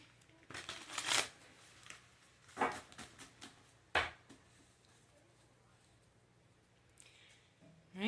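A deck of archetype cards is shuffled for a reading, with several short riffling bursts and soft slaps close to the microphone, separated by quiet pauses.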